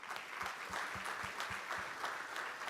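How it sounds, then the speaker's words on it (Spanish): A church congregation claps together, a steady patter of many hands, fairly faint and distant-sounding, lasting a few seconds with no talking over it. "Un aplauso."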